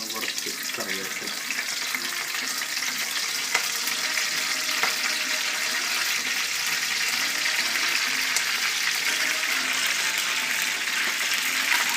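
Steady, bright sizzle of curry leaves frying in oil in a clay pot for a Kerala-style fish curry, continuous crackling hiss with faint clatter, close and loud throughout.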